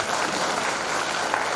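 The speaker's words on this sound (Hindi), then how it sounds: "दोनों स्पीकर सर के लिए हम लोग एक बार जोरदार से ताली मार दीजिएगा" An audience at a Bible seminar applauds for two speakers, a steady wash of many hands clapping together that fills the whole moment without any voices.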